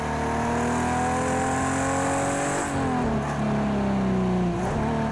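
A Ferrari's engine revs hard in the racing game Project Cars 2, a loud, sustained roar with climbing and dipping pitch as it accelerates and shifts gears, heard alone.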